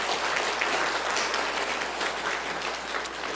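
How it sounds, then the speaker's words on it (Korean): A Korean church congregation applauds during a Sunday second service sermon, producing a thick, continuous wash of clapping at a steady level throughout. "우리 하나님께 영광의 박수 한번 올려드리기를 원합니다."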